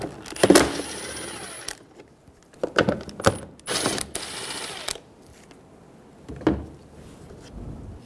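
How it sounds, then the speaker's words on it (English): A 13mm socket ratchet works fog light cover nuts off the front bumper of a 2000-2007 Ford Focus, with several bursts of quick clicking ratcheting separated by short pauses. "Using a 13mm socket, remove the nuts for the fog light covers."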